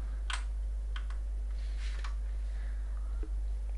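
Keyboard shortcut pressed on a computer keyboard, a few sharp key clicks and taps, close and clear over a steady low electrical hum.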